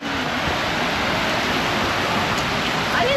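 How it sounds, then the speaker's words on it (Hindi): Heavy rain pours on Miyajima Island, Japan, as a dense, loud, unbroken roar of falling water with no let-up. "लास्ट वॉक बारिश में"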